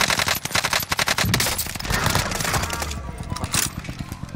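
Rapid automatic fire from a KG M40 rifle in a first-person shooter, dense, loud bursts of closely spaced shots rattling almost nonstop, with a brief thinning of the rhythm before more shots near the end.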